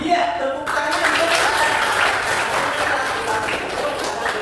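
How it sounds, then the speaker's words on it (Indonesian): Applause from a classroom audience during an Islamic teacher-training lesson, a broad continuous wash of clapping that stays steady and fairly loud for several seconds. "Iya, tepuk tangan."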